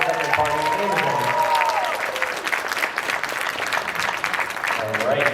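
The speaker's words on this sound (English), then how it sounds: "everyone give a round of applause for our starting party" Audience at a Fan Expo Chicago improv Dungeons & Dragons session applauds for the starting party, a dense, steady clapping that runs the whole time, with a voice over it at the start.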